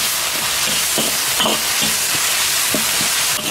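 Loud, steady sizzle of garlic, ginger, dried chili and Sichuan pepper stir-frying in hot oil in a wok, with scraping spatula strokes every half second or so, close up and without talk.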